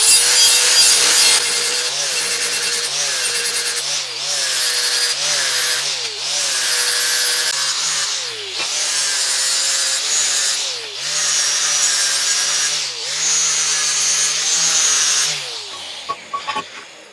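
Steel pieces for a band saw roller conveyor being beveled with a power grinder, a loud, near rasping grind in repeated passes of a few seconds each with short pauses between them, ending in a few scattered clanks.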